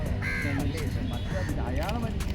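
Crows at Varkala Beach on the Kerala cliff caw in several harsh calls while eating chips, close by with a voice talking over them.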